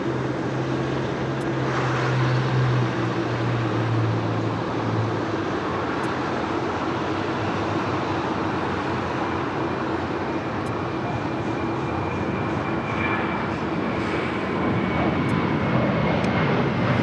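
An American Airlines jet takes off from LAX runway 25 right, a loud sustained roar of jet engines with a droning low rumble and whine, steady and close, with no voices.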